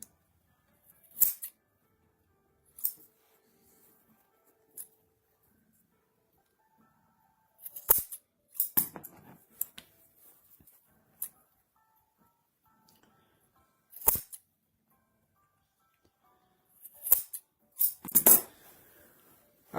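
Scissors or a blade cut tapers while a briefcase is made, giving sparse sharp snips and clinks at irregular intervals, close by against near silence.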